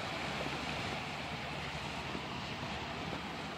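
Atlantic Ocean surf washing onto the shore at St. Simons, a steady broad wash of breaking waves heard close by, with wind buffeting the microphone and no talk.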